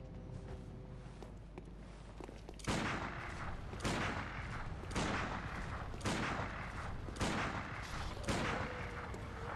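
Gunshots from a gun in Bloodborne, a series of heavy booming blasts roughly a second apart over a constant background rumble.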